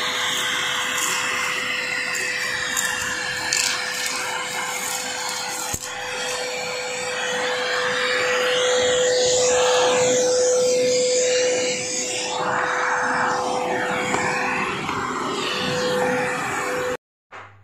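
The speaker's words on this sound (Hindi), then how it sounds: "अभी मैं आपको वैक्यूम क्लीनर का साउंड सुनाता हूँ," A wet and dry vacuum cleaner runs with a loud, steady motor whine and a rushing airflow that swells midway, then cuts off abruptly near the end.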